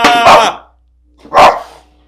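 A dog barks twice, loud and close, each bark a short harmonic burst about a second apart, with quiet between them.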